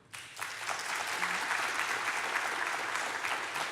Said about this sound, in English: round of applause if you live in Mesa.